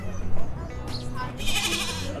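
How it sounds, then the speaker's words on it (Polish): Tiny young goat kids bleat at a winter gathering in Poland's Świętokrzyskie region, with several thin, wavering cries close by over a background of people talking. "O, jakie malutkie koźlątka."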